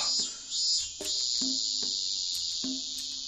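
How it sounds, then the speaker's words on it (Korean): Cicadas droning in a forest inside a video game, a loud continuous high buzz broken by several short rhythmic pulses and clicks, running throughout without any speech. "매미 소리 봐."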